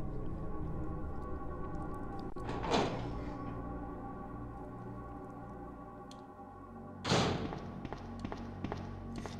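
A door in the Resident Evil 2 video game is unlocked with a green key and swings open, giving two separate broadband thuds and scrapes about four seconds apart over a steady, droning game soundtrack.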